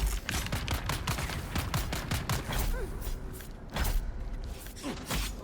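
Dense gunfire in the sci-fi video game Dune: Awakening, rapid sharp shots in loud overlapping bursts with mechanical clanks and thuds, filling the whole stretch with no speech.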